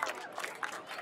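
An audience at a club senior night in 2023 claps and cheers for a short, lively burst, with distinct claps standing out from the crowd.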